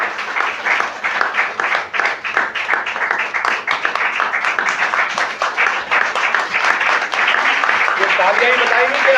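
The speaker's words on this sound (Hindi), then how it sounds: "ये तालियां ही बताएंगे कि आपको उनका प्रपोजल पसंद आया या नहीं।" A theatre audience applauds members of a drama group as they come onto the stage, producing dense, sustained clapping that holds steady throughout with a lively, crowded texture.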